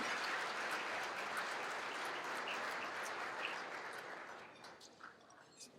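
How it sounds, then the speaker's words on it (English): An audience at an Arab engineers' gala applauds an honorary award recipient, soft and distant sustained clapping that thins out and fades near the end. "another round of applause for our honorary award recipient, Mr. Eric McFarlane"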